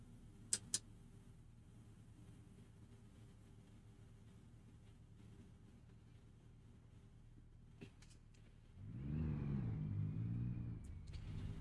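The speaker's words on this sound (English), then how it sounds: "Pretty powerful little engine here." Truck engine in American Truck Simulator starting up: a low steady idle hum with a couple of sharp ticks early on, then the engine swells into a louder, throaty rumble near the end.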